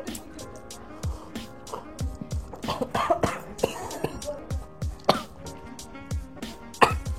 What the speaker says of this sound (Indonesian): Maaf guys, batuk.